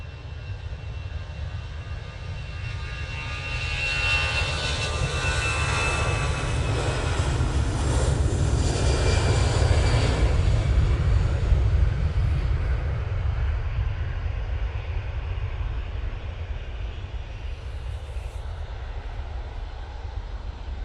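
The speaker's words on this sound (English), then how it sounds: "on final, we have the SAS coming in from Copenhagen" An SAS airliner arriving from Copenhagen roars steadily on final approach at Manchester Airport, a loud continuous engine rumble that swells midway and slowly eases off over about twenty seconds.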